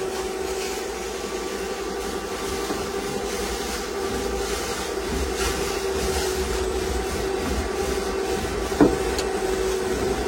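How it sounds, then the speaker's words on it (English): A 16-gallon wet/dry vacuum sucks water off a floor, giving a steady close whine and rushing hiss throughout with a brief gurgling slurp near the end, and no talk. "this vacuum pulls it out as fast as it puts it down"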